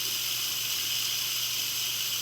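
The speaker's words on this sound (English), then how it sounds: "It's releasing its pressure" An Instant Pot releasing pressure gives a continuous, steady hiss of escaping steam that stays even and fairly loud throughout, with no talking.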